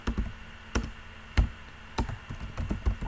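Keys tapped on a computer keyboard while entering a command line, a handful of distinct, fairly loud clicks spaced unevenly, then a quicker cluster near the end, close up with no voices.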